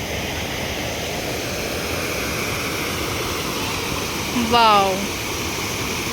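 The waterfall at Gucchu Pani (Robbers Cave), Dehradun roars steadily throughout, while a voice briefly exclaims over the rushing water near the end.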